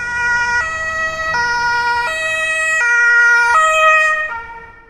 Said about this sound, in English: This is a recording I got of a German police car zooming past with its sirens on.